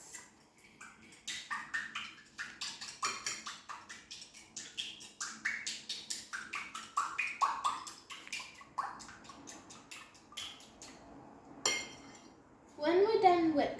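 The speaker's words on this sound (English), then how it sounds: "now we have to whisk" An egg mixture for chocolate and banana French toast is whisked in a bowl: quick, regular clinking strokes go on steadily, then give way to a louder clatter near the end.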